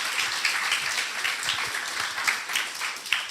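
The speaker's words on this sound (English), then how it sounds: "a round of applause for Mantas" Audience clapping at a tech-company UX meetup, a moderate crowd whose individual claps stand out in a steady patter, fairly close and continuous.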